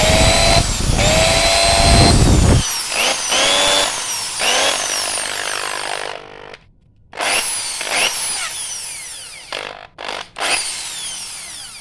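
A repaired electric power drill runs after being reassembled, its motor whining loudly and steadily with several revs up and down and brief cutoffs, close and alone.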